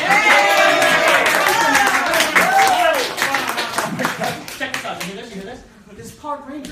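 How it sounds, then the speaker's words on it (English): Crowd applause and cheering at a live comedy show, strong at first and gradually thinning out, with voices and whoops mixed through the clapping. "give yourself a round of applause for being here"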